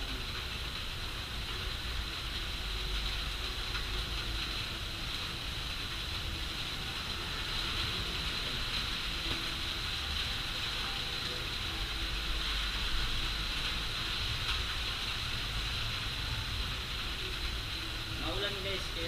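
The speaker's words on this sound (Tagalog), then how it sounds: "Maulan, sobrang ulan." Heavy rain pouring down around a cemetery, a dense continuous hiss with low rumble, steady and fairly loud throughout, with occasional faint voice or movement sounds underneath.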